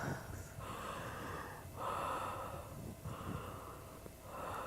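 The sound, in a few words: people doing connected breathwork breathing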